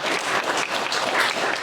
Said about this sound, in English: So let's do a round of applause.